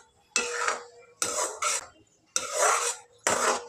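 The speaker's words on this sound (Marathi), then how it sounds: "एकसारखं मिक्स करून हलवून घ्यायचं आहे." Kheer sweetened with jaggery is stirred in a pot, giving four distinct scraping, rasping bursts of spoon against metal separated by short pauses, close and clear with no talking.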